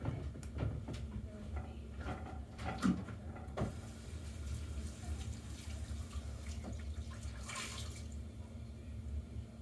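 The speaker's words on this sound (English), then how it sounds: "I went to the sink and washed my towel back off" Water runs from a kitchen sink tap as a towel is rinsed under it, a low steady wash broken by a few knocks and clunks nearby, with faint talking in the background.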